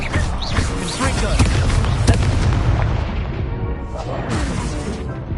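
The Confringo spell in Hogwarts Legacy on PS5, rendered as heavy booming blasts and crashing impacts layered over dense game effects, loud and continuous with repeated thuds.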